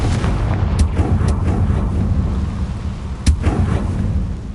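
A Confringo fire spell blast in Hogwarts Legacy on PS5, heard as a few sharp explosive cracks over a loud, continuous low rumble, with one strong burst near the middle of the clip.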